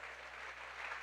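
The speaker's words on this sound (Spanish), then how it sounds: "Dele un aplauso al Señor." A church congregation claps steadily through a brief burst during a sermon, with a low electrical hum beneath.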